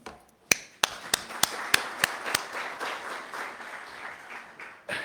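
Sparse, scattered clapping from an audience at a grant awarding ceremony: a few sharp individual claps at the start, then a soft, steady patter of applause that fades and picks up again near the end.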